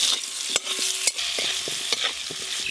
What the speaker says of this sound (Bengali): আমগুলো বেশ ভালো করে নেড়ে নিয়েছি